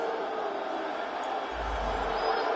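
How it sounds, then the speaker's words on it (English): A crowd at an NFL game between the Pittsburgh Steelers and the Baltimore Ravens boos in the stadium. The sound is a dense, steady, distant roar of many voices that swells slightly toward the end. "More boos from the crowd"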